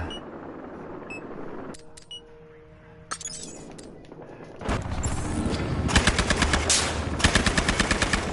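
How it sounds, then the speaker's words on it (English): Rapid automatic gunfire in a video game, loud sustained bursts of machine-gun shots following quieter beeps and game sounds, with no speech over it. "they're shooting at me"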